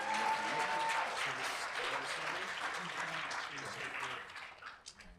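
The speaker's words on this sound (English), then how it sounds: "let's have a round of applause for Professor Rick Cupp." Audience applause at a panel event on trial lawyers, a full round of clapping that starts strong and gradually thins and fades toward the end, with faint voices underneath.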